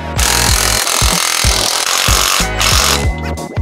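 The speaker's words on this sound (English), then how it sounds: "Now I'm gonna go back through, tighten each clamp." An air tool tightens the exhaust clamps on a Ford Focus RS, producing a loud, continuous, close rattling hammer with a fast, steady pulse throughout.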